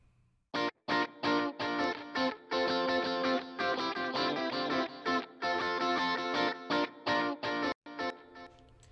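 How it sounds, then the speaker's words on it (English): Dry electric guitar run through a rhythmic delay with reverb added to the repeats, playing choppy chords in short bursts with brief gaps, then echoing tails that smear between strokes; loud and alone. "Putting a little reverb on that delay."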